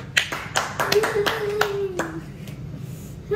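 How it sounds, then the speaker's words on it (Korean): A small church Bible study group gives a brief round of clapping, a few sharp, uneven hand claps close by, with a voice speaking over them. "일단 박수!"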